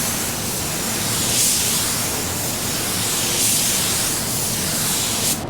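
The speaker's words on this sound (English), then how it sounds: "we just wanna maneuver our spray gun like this" A spray gun lays clearcoat onto a car panel in a steady, close, loud hiss, with the airflow swelling and easing in slow passes as the gun sweeps back and forth.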